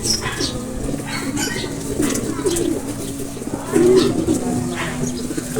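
Racing pigeons coo in low, repeated throaty phrases close by, with faint wing flaps and chirps around them under a steady background hum.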